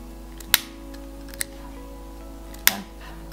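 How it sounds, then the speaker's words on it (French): Scissors snip through crocheted yarn threads on a Minion scarf: three crisp, isolated cuts spaced irregularly, close and clear over a faint steady hum, with no talk. "Je coupe les fils."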